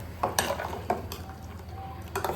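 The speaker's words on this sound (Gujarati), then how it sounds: "આપણે એને પણ મિક્સ કરી લઈશું." Spice paste being stirred into Gujarati kadhi in a pot over a high gas flame, with a spoon scraping and clinking against the pot in several short, irregular strokes over a low simmering background.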